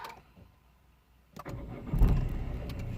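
A car engine turns over and settles into a low running rumble after a quiet start, the noise rising and holding steady near the listener.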